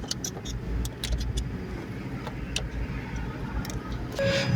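A car idles with a steady low engine rumble in an outdoor market setting, with a few faint clicks and knocks over it and no talking.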